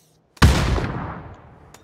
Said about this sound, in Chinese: 就一个人在开枪，一直都是他们